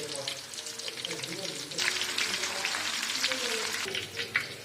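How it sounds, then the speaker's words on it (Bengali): Kebabs frying in hot white oil in a wok, giving a steady hiss and crackle of sizzling that holds through the whole stretch, with a voice speaking faintly underneath. "দেখুন কাবাবগুলো কত সুন্দর ভাজা হচ্ছে"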